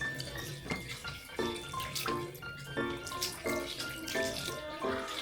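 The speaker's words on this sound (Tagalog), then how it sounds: "panoorin nyo muna kung mag-wash ng face" Tap water running while someone washes their face in a mountain lodge in Benguet, a steady splashing stream with rhythmic bursts of water hitting hands and the basin, close and fairly loud.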